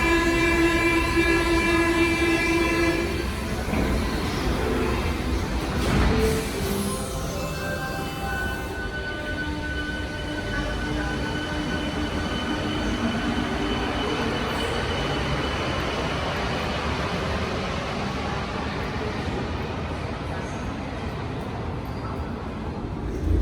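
A Toulouse metro train running between stations, loud and steady throughout, with tonal whines rising and falling over a continuous rumble and a brief sharp burst near the start.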